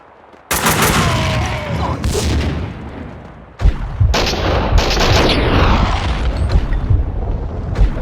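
A grenade blast and a burst of gunfire in the shooter game Max Payne 2: a loud explosion, then heavy, sustained shots and a second boom with rumbling echoes.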